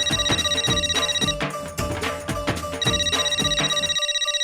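A telephone rings in a household scene with a bright, repeating electronic ringtone that is loud and close, pauses briefly partway through, then resumes before cutting off.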